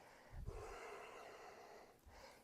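A yoga practitioner takes a slow breath during a vinyasa session, a soft airy inhale-exhale heard close and quiet, with a brief nasal snort-like onset at the start and again near the end.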